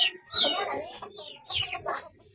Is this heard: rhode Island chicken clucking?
yes